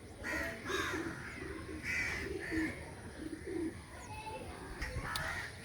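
Soft repeated cooing from pigeons, several low calls in a loose rhythm against faint background noise.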